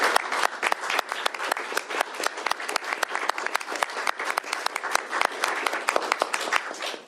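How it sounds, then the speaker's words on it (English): Sustained applause from a crowd at a bill signing, many hands clapping steadily and fairly loud throughout. "give them a big round of applause"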